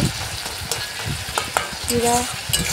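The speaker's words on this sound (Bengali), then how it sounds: "এবারে মাছের মাথাগুলো দিয়ে ভালোভাবে নেড়ে দিয়ে" A spoon stirs fish heads frying in oil in a pan, producing a loud close sizzle broken by repeated scraping strokes and clinks against the pan.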